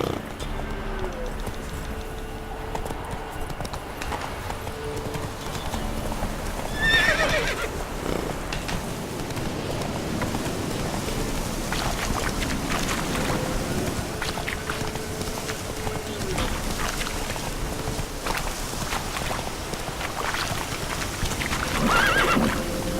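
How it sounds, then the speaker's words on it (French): A horse gallops in The Witcher 3: Wild Hunt, with steady clip-clopping hooves throughout over outdoor ambience and a couple of neighs partway through. "Ah, j'adore le cheval, hein, c'est génial."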